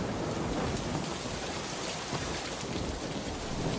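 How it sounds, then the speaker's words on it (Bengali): Heavy rain pouring onto a roof made of taro leaves in a cartoon scene, a dense, steady hiss of countless drops with a low rumbling undertone that never lets up. "ওপর পড়া বৃষ্টির শব্দ শুনতে শুনতে তারা ঘুমিয়ে পড়ে"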